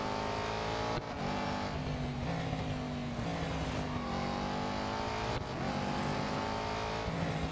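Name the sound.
race car engine in video game Real Racing 3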